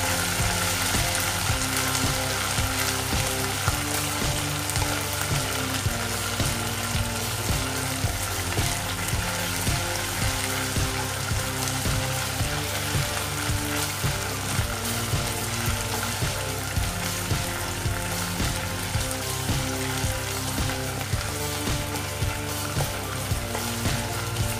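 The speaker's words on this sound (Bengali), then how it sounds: "এটাকে একটু ভাজা করে নেব" Food fries in a karahi pan while chicken curry is being cooked, giving a steady, continuous sizzle that runs evenly throughout, with a rhythmic background pattern beneath it.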